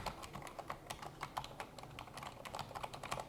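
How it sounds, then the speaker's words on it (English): Rapid, steady typing on a quiet gaming keyboard with silent keys, a soft, even patter of muted keystrokes heard close and alone with no talking. "Let's take a quick listen as I pretend to type here."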